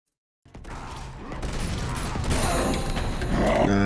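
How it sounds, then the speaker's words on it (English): Grenade launcher firing in the video game Uncharted 2, heard as a sudden loud burst after brief silence that turns into sustained, dense blasts and rumbling chaos, growing louder toward the end with no speech. "The gun is like a grenade launcher gun. It really is just a grenade launcher."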